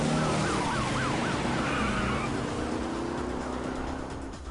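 A police car siren wails inside a video game, a loud, close, rising and falling electronic tone over a steady engine drone that gradually fades toward the end.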